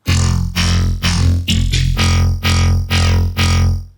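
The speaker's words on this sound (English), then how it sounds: "I love adding Vocodex to sounds like this because it just gives it such a juicy and wet quality." A thick, buzzy Serum synth bass through a Vocodex vocoder, played as a series of sustained, rhythmically retriggered notes, loud and up front.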